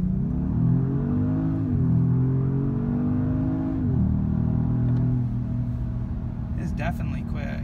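A Genesis G80 Sport accelerates in sport mode, its engine revs climbing steadily through gears with brief dips at each shift, heard from inside the cabin as a steady mid-loud drone over road rumble.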